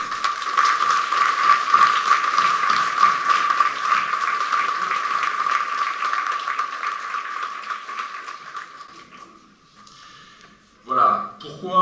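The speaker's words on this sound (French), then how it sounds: "Et je vous demande donc de les applaudir avec les architectes." Audience at a French village hall inauguration applauds the building firms and architects, with steady clapping under a loud electrical whine that dies away toward the end before a short voice.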